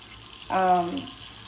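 A mini foldable washing machine drains its water in a short, steady gush that starts abruptly and then fades into a low background hiss.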